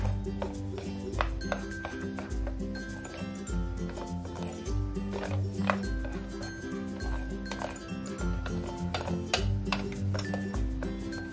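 Ghee-roasted cashews and almonds stirred into homemade chocolate batter give a steady run of clinks and scrapes from a utensil against a bowl, up close, with repeated sharp taps throughout.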